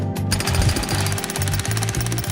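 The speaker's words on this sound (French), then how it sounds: "Ne seront pas ébranlés par les vibrations du marteau." A jackhammer breaks concrete on a construction site, hammering loud and close in a rapid steady pulse that runs through the whole stretch with brief gaps between bursts.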